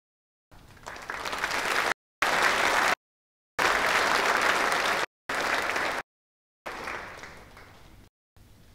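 Audience applause fills a school prizegiving hall at Lindisfarne College, steady loud clapping in bursts separated by abrupt silent gaps.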